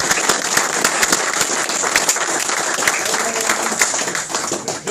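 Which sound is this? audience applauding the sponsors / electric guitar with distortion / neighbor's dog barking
audience applauding the sponsors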